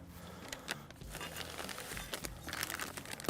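A bag of garden lime is cut open with scissors, heard as close, continuous crinkling of the plastic bag with snipping and rustling throughout, with no voices over it.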